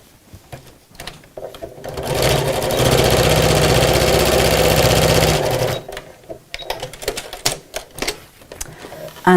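A domestic sewing machine stitches the seams of a fabric messenger bag, running steadily and loud for about three seconds, with quieter handling sounds before and after.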